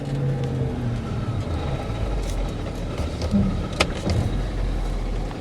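A 2013 Ford F550 4x4 rollback flatbed truck, salvaged, idling and running in four-wheel-drive low with the transmission in drive and not shifting, giving a steady low engine drone with a brief clunk partway through.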